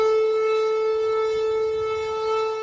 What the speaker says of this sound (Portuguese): Sirenes soaram pelo país para chamar a atenção dos moradores.